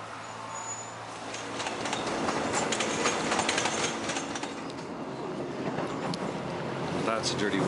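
Passenger train ride near Yongsan, with a continuous rolling rumble and rattling carriage noise, faint rhythmic track clatter and rushing wind through a window, steady and close throughout.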